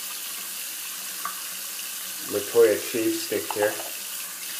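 Tap water runs into a sink to wet the face before a shave with a Toja shave stick, a short steady splashing stream that is partly masked by someone talking over it.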